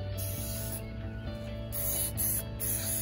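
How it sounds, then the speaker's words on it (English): Krylon crystal clear sealer sprays onto painted rocks in several short hissing bursts, close and fairly quiet. "I'm going to come over it with a Krylon crystal clear spray"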